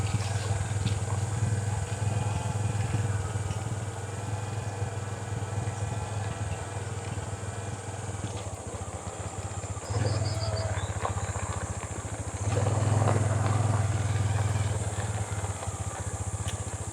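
A very small Yamaha PG-1 motorcycle rides along a gravel road, its engine droning steadily up close with a low thrumming note that swells louder near the end.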